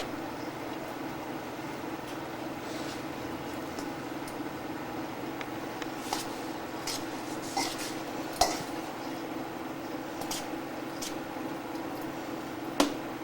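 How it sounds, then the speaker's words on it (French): A spoon stirs hot couscous dough in a pot, quiet steady scraping broken by a few sharp metallic clinks, close and soft against a low background hum, with no talking. "Et je vais le remuer avec une cuillère."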